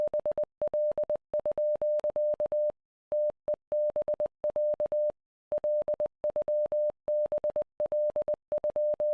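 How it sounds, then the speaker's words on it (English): A Morse code radio transmission in the video game Z.A.T.O. beeps out as a single steady tone in short dots and longer dashes, grouped with brief gaps and pauses, clean and alone. "The transmission consists of repeated phase in Morse code"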